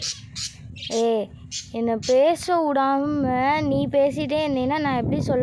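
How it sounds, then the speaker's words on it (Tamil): Sparrows chirp in a village in the morning, loud, close, squawky calls repeating among people talking. "குருவி சத்தம் கேட்குது,"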